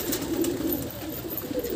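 Pigeons cooing on a rooftop breeding area, a few low murmuring coos against constant outdoor ambience.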